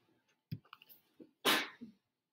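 A single sharp sneeze, loud and close, preceded by a few small clicks and breaths and followed by a brief trailing breath, in an otherwise quiet room.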